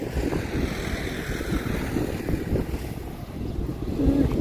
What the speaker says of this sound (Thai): ลมหวยหวยแท้วันนี้